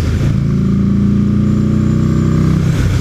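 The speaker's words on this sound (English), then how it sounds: "it's a naked sport bike with a V-twin engine" A Buell XB9S naked sport bike with a V-twin engine revs loudly up close, a steady throbbing engine note that rises and holds for about three seconds.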